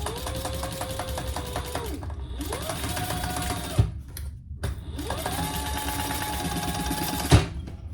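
A sewing machine top stitches a crossbody bag in a steady whirring run that pauses and restarts, with a few small clicks and knocks between passes.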